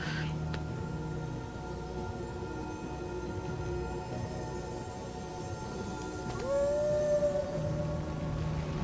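Torgal the dog lets out a single long, drawn-out howl in the video game Final Fantasy XVI. It rises and holds for about a second near the end, over a quiet game background.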